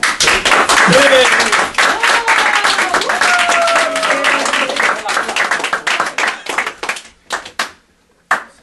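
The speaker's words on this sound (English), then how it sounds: "And we will end this with applause." Applause from a Christmas Eve Kucios gathering crowd, loud and dense at first, then thinning into scattered claps that trail off, with voices talking over it.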